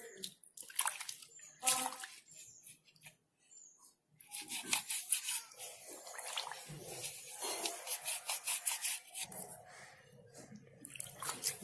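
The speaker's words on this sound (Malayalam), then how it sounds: "ഇനി ഇതൊന്ന് വെള്ളം ഒഴിച്ച് കഴുകിയെടുക്കാം." Water pours and splashes while a mixer grinder jar is rinsed and rubbed clean, an intermittent close-up swishing that runs on and off at low volume.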